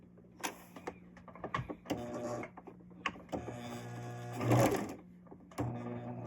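A sewing machine stitches quilt pieces together for a sawtooth block in short, quiet runs and bursts, with faint clicks and handling noises between them.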